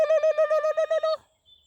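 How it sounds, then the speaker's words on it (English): A turkey gobbles outdoors in the morning, a rapid run of about ten loud, pulsing warbled notes close by, cutting off abruptly and followed by a faint, brief call in the quiet. "The birds are singing."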